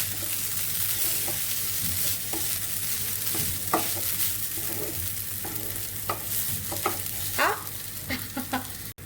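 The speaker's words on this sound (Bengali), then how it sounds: "পরিমাণ মতো পানি দিয়ে দেবো চাউলটা ভাজা হয়ে গেছে" Uncooked rice being dry-fried and stirred in a pan for khichuri, a steady sizzle with repeated scraping strokes of the spoon against the pan, close and continuous with no talking.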